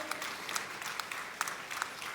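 An audience at a regional final awards ceremony claps for the third-place winner: steady, moderately distant applause throughout, with a few sharper individual claps standing out.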